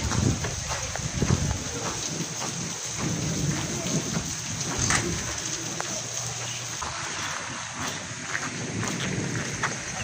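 Heavy rain pours steadily with rumbling thunder during a storm at a market outing, a dense continuous wash of drops close by with deeper low rolls underneath.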